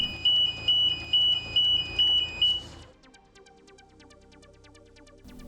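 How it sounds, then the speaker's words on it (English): The tilt sensor alarm on a Genie MEWP platform sounds as a loud series of about six rhythmic electronic beeps, then stops, leaving a quieter mechanical hum and faint ticking. "The alarm located in the platform should now sound."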